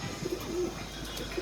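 A pigeon gives a few soft, low coos, faint and fairly distant, against a steady background hum with no voices.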